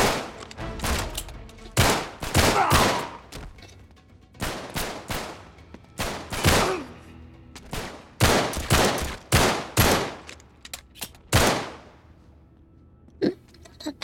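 Gunfire in Uncharted 3: Drake's Deception during an underground London level, with repeated loud shots and bursts sounding close by and spaced by short pauses throughout.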